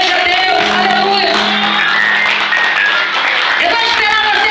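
A church congregation applauds and shouts praise in a continuous loud, dense roar of clapping and voices, with cries rising above the crowd throughout.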